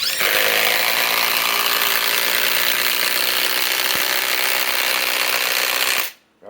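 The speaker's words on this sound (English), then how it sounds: "First, let's run the subcompact impact driver." A RIDGID subcompact impact driver runs continuously at full speed, a loud, dense buzzing whir close by that holds steady for about six seconds before cutting off abruptly, with no talking.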